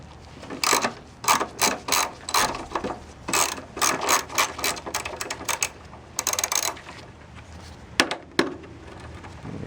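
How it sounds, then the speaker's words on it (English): A 10mm ratchet wrench loosens the clutch reservoir bolts on a 1996 Honda Civic in rapid, close clicking bursts separated by short pauses, ending with a few isolated clacks and no speech. "So we've got the 10mm wrench. So we're going to take off the reservoir"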